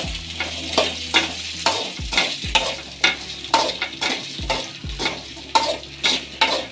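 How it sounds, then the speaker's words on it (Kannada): Okra frying in hot oil while being stirred, with a steady sizzle broken by a regular rhythm of spoon strokes and scrapes against the pan, close and clear, no voices. "ಇದನ್ನು ಎಣ್ಣೆಗೆ ಹಾಕಿ ಸ್ವಲ್ಪ ಫ್ರೈ ಮಾಡ್ಕೊಬಿಡೋಣ"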